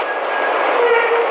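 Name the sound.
aerial tram car slowing to a stop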